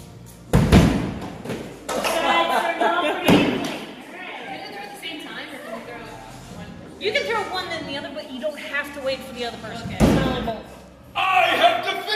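Thrown hatchets hit a wooden target with loud, sharp thuds, three or four separate impacts spread over several seconds, while people chatter and talk between the throws.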